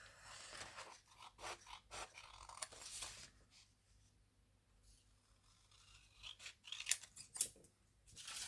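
Scissors snip and scrape through paper pieces for a tri-fold ephemera holder craft, faint irregular cuts in two bursts separated by a quiet pause, close by with no talk.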